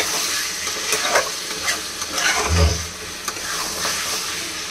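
Mutton curry frying and being stirred in a pan as the meat browns, a steady close sizzle with repeated scraping strokes of a spoon, no talking.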